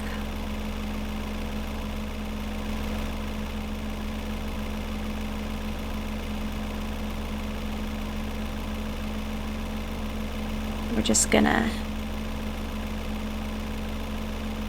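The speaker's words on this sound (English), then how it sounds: "we are driving to town, and this is honestly a very loud truck." A loud truck engine drones steadily while driving in a video game, a constant low rumble with a humming tone, briefly joined by a short burst of noise near the end; a voice speaks quietly.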